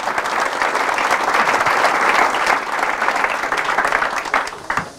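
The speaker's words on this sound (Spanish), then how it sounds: "Fuertes aplausos al Señor Jesucristo" Congregation applause at a Catholic religious gathering led by a priest: loud, sustained clapping from many people, dense and even for five seconds before tapering slightly at the end, with no talking.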